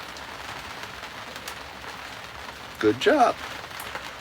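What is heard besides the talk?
rain falling on a boat cockpit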